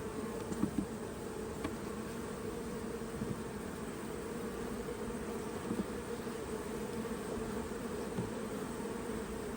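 Honey bees from a late-season swarm buzz in a dense, continuous drone during hive work, steady and close throughout.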